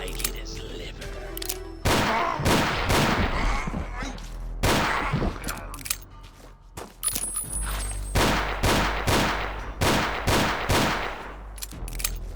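Revolver gunfire in the Doom mod Ashes, heavy shots fired one after another in a fairly steady rhythm, loud and close over game noise and occasional voice.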